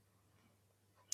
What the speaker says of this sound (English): So on my mouse, I'm right clicking.